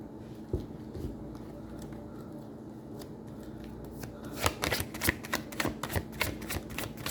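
Tarot cards being shuffled by hand in a series of crisp, rapid riffling flicks that pick up and grow louder partway through, alone with no talking.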